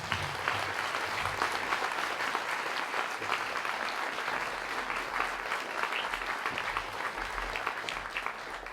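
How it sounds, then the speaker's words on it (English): An audience applauds at a film screening discussion panel, with sustained dense clapping from a room full of people, steady and fairly close throughout. "let's give everyone a round of applause"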